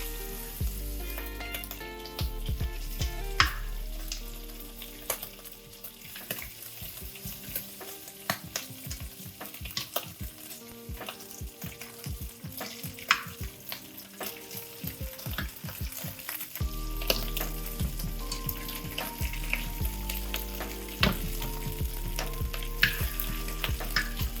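Bacon frying in a pan crackles and pops without a break, a dense close sizzle full of sharp spits and bursts that lasts throughout, with no voices.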